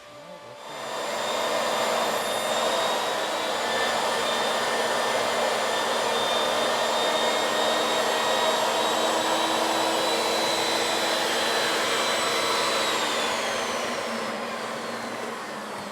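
A wood lathe spins a wooden salad bowl blank as a tool cuts from the center outward, a steady loud whirring hum with a faint whine, sustained throughout with no speech.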